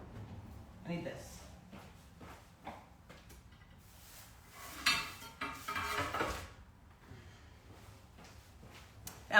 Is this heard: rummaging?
yes